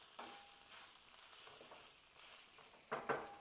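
Meat sizzles steadily while browning in a pan with a pinch of salt, a soft continuous frying hiss with a few stirring scrapes and a louder burst of crackle near the end.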